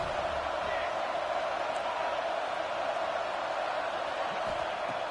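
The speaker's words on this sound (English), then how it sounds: "this crowd is fired up. Listen to this noise here" Fired-up football stadium crowd at a Bama vs LSU game, a steady loud roar of many voices that holds without a break.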